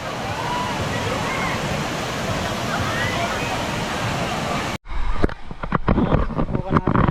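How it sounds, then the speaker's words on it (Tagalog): A man-made waterfall at a tourist spot roars in a dense, steady broadband rush, close and loud, before cutting abruptly to nearer splashing and sloshing water in the last couple of seconds. "Parang falls siya eh, no? Man-made falls."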